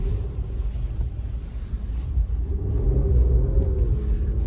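A 2019 Infiniti Q50 Red Sport 400 with all-wheel drive pushes through fresh snow, heard from inside as a steady low rumble of engine and tires with a faint rising drone.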